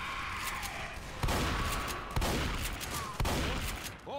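Gunfire in the zombie shooter Left 4 Dead 2 during the Crash Course campaign: three sharp, loud shots about a second apart over steady background game noise and a faint voice.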